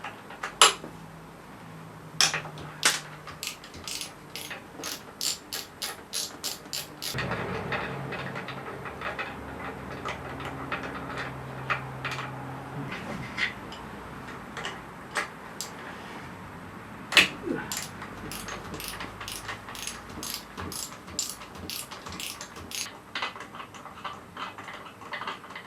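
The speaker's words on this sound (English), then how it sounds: "These are 10mm, so I've now got a 10mm socket, and we'll attempt to get them out." A ratchet fitted with a 10mm socket loosens power steering pump bolts in a garage, giving bursts of rapid, crisp clicks separated by pauses and quieter handling noise.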